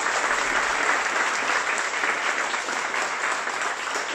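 Steady, dense applause from a large crowd, sustained and loud throughout with no pauses.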